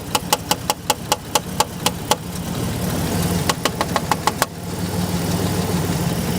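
A 1987 Buick Grand National idles steadily while its mass airflow sensor is tapped, producing a run of sharp, evenly spaced knocks over the engine hum, then a pause and a second quicker burst of taps.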